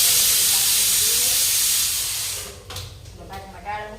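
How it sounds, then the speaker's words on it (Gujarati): Bhungla fryums frying in hot oil give a loud, steady hiss that fills the first half, then thins into softer crackling bursts and fizzes. "તો ચાલો આપણું તેલ છે ગરમ થઈ ગયું છે, તો છોકરાને ભૂંગળા તળી નાખીએ."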